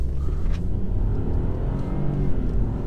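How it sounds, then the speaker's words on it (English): A 2018 BMW 118i with a 136 hp engine pulls hard under acceleration, a loud, close, continuous rumbling growl that climbs steadily in pitch as the revs rise, with no talking. "listen to that engine purr"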